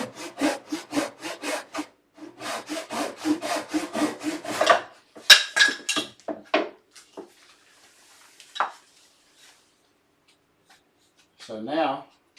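A fine-bladed hand saw cuts wood in quick, rhythmic back-and-forth strokes, close and clear, pausing briefly, then a few scattered rubs and scrapes follow with quiet gaps.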